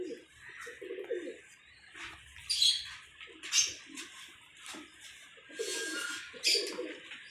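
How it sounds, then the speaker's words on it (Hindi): A purebred Saji pigeon coos in low repeated phrases, close by, mixed with sharper bird chirps and light rustling, with no clear talk. "बड़ा नस्ली साजी कबूतर है, नस्ली कबूतर है ये।"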